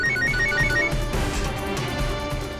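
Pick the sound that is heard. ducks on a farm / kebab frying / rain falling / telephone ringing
telephone ringing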